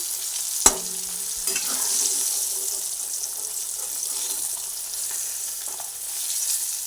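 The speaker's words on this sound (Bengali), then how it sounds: "এই তেলের মধ্যে আরও বাদ বাকি যে কাঁকড় আছে সেগুলোকেও ভেজে নেব" Pieces of teasel gourd (kakrol) fry in hot oil, giving a soft continuous sizzle with a sharp clatter near the start and light stirring scrapes throughout.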